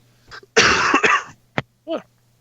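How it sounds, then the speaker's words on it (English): A single harsh cough bursts out close up, followed by a couple of short throat sounds and a brief vocal noise. "just the cough, it lingers"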